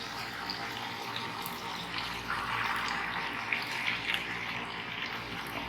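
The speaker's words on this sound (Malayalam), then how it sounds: "ഇനി നമുക്കിതിലേക്ക് നമ്മൾ അരച്ച് വെച്ച പേസ്റ്റ് ഒഴിച്ചു കൊടുക്കാം" Ground green paste pours into a simmering pan of green chicken curry, a steady, close, watery rush with a continuous liquid flow and no talking.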